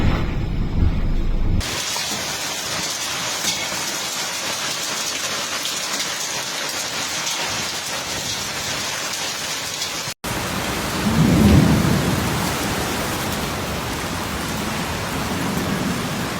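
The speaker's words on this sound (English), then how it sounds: "Shortly before 4 p.m., it started to rain violently. Then the hailstones fell and hit the vegetables gardens," A violent rainstorm with hail in Turi, Italy: dense, loud rain and hail pelting steadily, with a deep rumble of thunder rolling in near the end.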